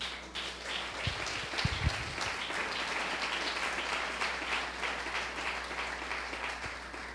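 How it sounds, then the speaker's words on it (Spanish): A room full of people at a religious lecture applauds steadily, a soft continuous patter of clapping heard from a distance, with a few sharper taps near the start. "Gracias por los aplausos."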